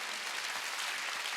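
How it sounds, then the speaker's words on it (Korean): Church congregation applauding during a Sunday worship service, a steady dense wash of clapping that stays loud and even throughout with no voices rising above it. "박수야."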